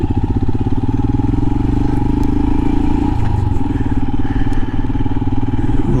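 A 2022 Royal Enfield Himalayan motorcycle rides onto dirt and up a hill, its steady engine thrum loud and close with a slight shift in tone partway through.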